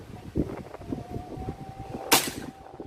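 A sharp shot from a Hummer X air rifle with a Lothar Walther polygon barrel, firing QYS domed pellets, cracks loudly near the end, following a couple of softer thuds and faint clicks against quiet background noise.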